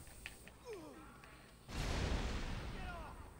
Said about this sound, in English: Of course, where you go, there's explosions.